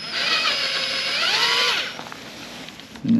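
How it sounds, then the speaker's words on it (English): A power drill bores holes through the sheet-metal body of a Ford Transit van: a loud, close whining motor with pitch sliding up and down for about two seconds, then fading to lighter clatter and handling noise. "So I got those 2 holes drilled."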